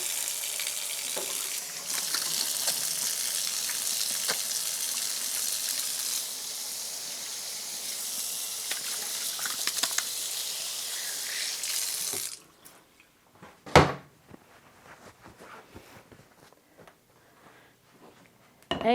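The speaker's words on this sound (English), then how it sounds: "I've already washed my hands once, but I'll wash them again to make sure there's no rings on." Hands being washed under a running kitchen tap at a sink, a steady, fairly loud rush of water for about twelve seconds. The flow then stops, leaving a few scattered splashes and knocks, with no voices.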